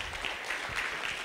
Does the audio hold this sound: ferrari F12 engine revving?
no